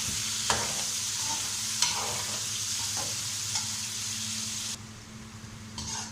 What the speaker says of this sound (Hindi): थोड़ी देर के लिए भून लेंगे